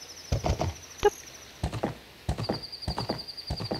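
Horse hooves clip-clop in the Ocarina of Time video game, scattered clusters of footfalls with a brief neigh-like tone and a sustained high game chime, fairly quiet.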